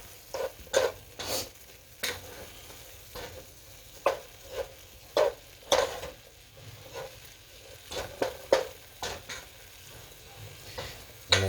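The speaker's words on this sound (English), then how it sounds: "I've added my onions and peppers to the brown steak and let that simmer for a little while." Sliced onions, peppers and browned steak sizzling in a pan for sliders, with a soft background fry broken by repeated close scraping and tapping strokes of a utensil at an irregular pace.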